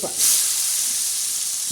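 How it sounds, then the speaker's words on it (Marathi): Hot tadka of red chili powder with lemon squeezed in and stirred, giving a steady, close frying sizzle and hiss that swells after a brief softer start and holds without any talking. "आता प्रथम आपण हे छान असा तडका दिला आणि हलवून घेतलेला आहे"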